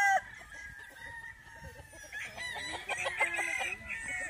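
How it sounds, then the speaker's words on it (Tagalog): A Lemon breed chicken clucks on a farm in Pangasinan, a run of close, repeated clucks and calls building toward the end over faint background noise. "Ito yung isang chicken oh."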